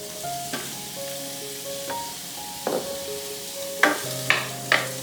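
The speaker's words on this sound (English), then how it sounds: "We're gonna saute all the vegetables first, except potato and cabbage" Minced garlic, onion and vegetables sautéing in a pot for Chinese-style borscht, a steady hiss of frying broken by several sharp scraping stirs toward the end, with a faint tonal hum underneath and no talking.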